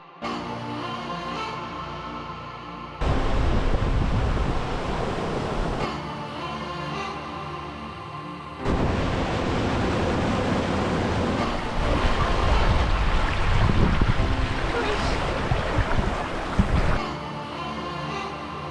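Sea waves at Preveli beach in Crete, where a river flows into the sea: a continuous roar of surf with swelling and easing surges and wind, loud and close, sometimes changing abruptly in level.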